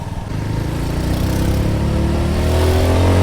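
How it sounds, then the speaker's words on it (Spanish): A Victory Venom 18 motorcycle accelerates through city traffic, its engine note climbing steadily and growing louder over a few seconds, close and continuous. "Acelera muy bacano la moto."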